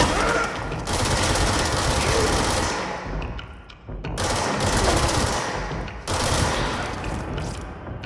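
Sustained machine gun fire in the action game Control, dense rapid bursts in three long volleys separated by brief pauses, loud and close.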